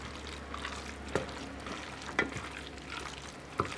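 Halushki mixture with onion sizzles softly in a pan while it is stirred and melts, a low continuous frying hiss broken by a few sharp scraping clinks.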